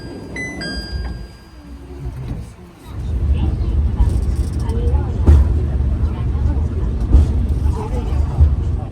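A crowded Hakone cable car cabin, with a low, steady mechanical rumble that swells after a brief lull and runs on under passengers' voices, with occasional soft thumps.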